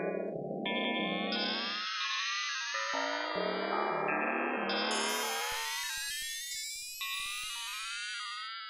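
Additive resynthesizer tones from a Technos Acxel with a long envelope, layered glassy harmonic notes sliding and stepping in pitch, moving from a low buzzy tone up to bright high tones, sustained and continuous with no talk.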